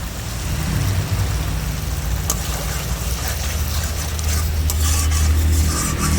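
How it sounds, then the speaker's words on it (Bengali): Ground spice paste sizzles and fries in hot oil for a chicken curry while being stirred in a pan, a steady close, loud crackling hiss with scraping stir strokes throughout. "এবার আমি বেটে নেওয়া মশলাটা দিয়ে দেবো।"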